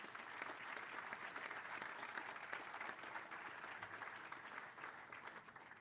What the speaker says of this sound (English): So, round of applause for Rockford.